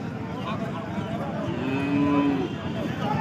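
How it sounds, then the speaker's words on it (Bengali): An Australian calf lets out a single drawn-out moo close by over a steady background hum of the farm setting. "দর্শক দেখতে পাচ্ছেন খুবই চমৎকার একটা সুন্দর একটা বাছুর ছানা"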